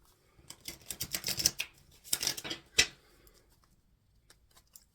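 A tarot card deck is shuffled by hand in quick riffling bursts, three clusters of crisp papery flutters up close, then near silence with a few faint taps.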